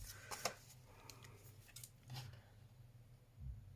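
Scissors trimming junk journal paper at a craft table, a few quiet snips and crisp paper cuts in close, separate bursts with faint rustling between them.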